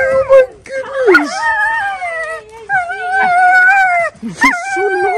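Excited dogs whine and howl loudly up close in long, wavering tones, broken by yips and short whimpers, with a voice mixed in.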